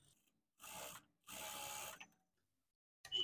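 A sewing machine stitches blouse fabric in two short bursts of mechanical whirring, each lasting under a second, with brief quiet gaps and another short burst starting at the end.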